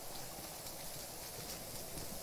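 Rain pours in GTA 5 as a dense, even hiss of falling drops, steady and broadband with no distinct events and no talking.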